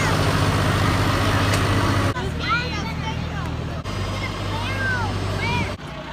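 A tractor pulls a hay ride, its engine a low, steady rumble nearby, while voices chatter and children call out over it.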